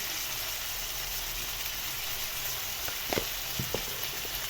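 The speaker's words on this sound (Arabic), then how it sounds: "اشوحها تشويحه كده مع بعض، تاخد من طعم البصل" Onions sautéing in a pan with salt: a steady, close sizzle and hiss throughout, with a few soft scraping or stirring knocks near the end.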